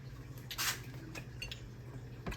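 A fork and knife clink and scrape lightly on a plate of fried shrimp breaded with regular breadcrumbs, a few soft, brief taps spread over a quiet background.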